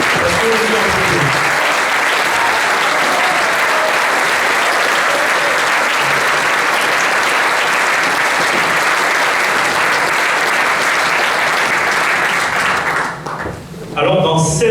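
Sustained, loud audience applause at a political rally in support of Emmanuel Macron in Villeneuve, a dense, steady crowd of clapping hands running continuously and thinning near the end, with voices mixed in.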